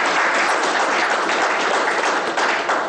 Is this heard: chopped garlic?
no